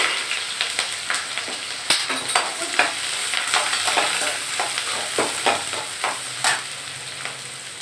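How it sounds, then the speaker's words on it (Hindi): Chopped onions and green chillies fry in hot oil while being stirred in a pan, a steady close sizzle broken by repeated scraping stirs and light clinks, with no talking. "तेल गर्म हो जाएगा, प्याज और हरी मिर्च।"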